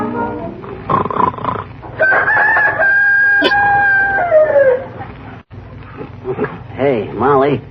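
A voice imitates a rooster crowing in a vintage radio comedy, one long loud warbling cock-a-doodle-doo, with other speech before and after.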